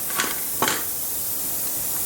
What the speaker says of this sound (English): now we're just rinsing them all off